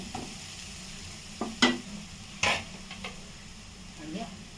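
Mashed potatoes being stirred with salt and chili thecha for batata vada filling, giving a few scattered scraping and stirring clicks with a couple of sharper utensil knocks against a pot or bowl, fairly close and moderately quiet.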